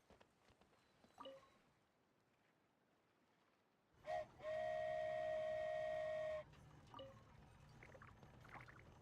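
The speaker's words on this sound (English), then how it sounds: "So this is what it feels like to ride a toy train." A toy train in a video game sets off with a short chime, then a sustained steady whistle tone over a low rumble lasting a couple of seconds, followed by continuing rolling rail noise.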